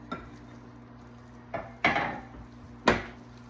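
Meat is mixed into a cheese mixture in a bowl, giving a few scattered scraping clinks of a utensil against the dish, sharp and close, with quiet gaps between them.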